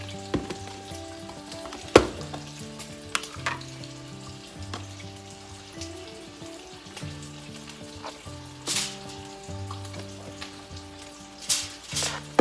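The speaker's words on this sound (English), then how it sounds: "you can hear bacon sizzling and the fan" Bacon sizzles and crackles steadily in a frying pan over a kitchen range fan's constant hum, with occasional louder pops and clinks throughout.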